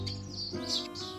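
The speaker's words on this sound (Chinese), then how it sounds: "别看小鸟了，快下来，" A small bird chirps close by in quick, bright repeated tweets that fill the short moment, with no talking over it.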